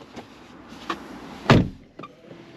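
A Mercedes-Benz CLE300 4Matic's seatbelt butler arm whirs out to present the belt, making a soft mechanical motor sound broken by a few light clicks and one louder thump inside the quiet cabin, with no talking.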